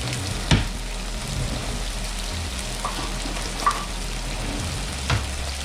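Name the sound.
rosemary and oregano dropped into a sizzling frying pan with fish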